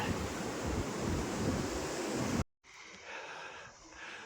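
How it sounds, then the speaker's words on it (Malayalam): Meltwater from snow rushes along a mountain river on the road over Sela Pass toward Tawang, a loud, steady roar that cuts off abruptly partway through, then returns as a quieter, thinner wash. "ഒരു പുഴ ഒഴുകുന്നുണ്ട് മഞ്ഞുവെള്ളം ഇങ്ങനെ ഉരുകി ഒലിച്ച് ഒഴുകി വരികയാണ്"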